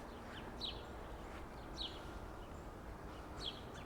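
Birds in an outdoor yard give three brief, faint chirps at spaced intervals, set against a steady low rumble of wind with no talking.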